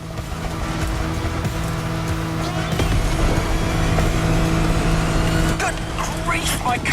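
An off-road car in a racing video game speeds downhill at full throttle, a continuous loud engine drone with rattling bumps and skids, and a voice talks over it throughout.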